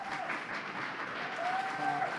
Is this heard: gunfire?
no